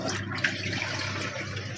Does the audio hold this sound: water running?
yes